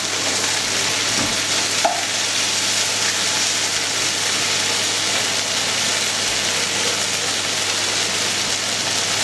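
Noodles sizzle and fry in a hot pan of beef and black bean stir fry, a loud, steady, dense hiss with a faint clink of stirring and no talking.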